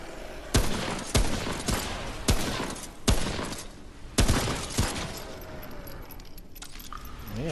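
Gunfire from head shots in the co-op video game Remnant, a series of about seven loud, sharp shots spaced roughly half a second to a second apart, each with a ringing, echoing tail over a busy game soundscape.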